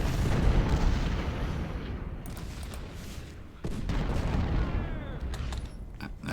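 Cannon and artillery fire from the Civil War strategy game Ultimate General rumbles continuously, with booms layered over one another, a fresh burst of volleys partway through, and crackling distant musketry mixed in.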